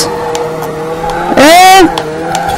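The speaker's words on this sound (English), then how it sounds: "This is a loud supercar. It's super loud." A loud supercar in the Forza Horizon 4 racing game gives a brief, sharp rising engine rev and tire squeal that cuts in over a steady background engine drone.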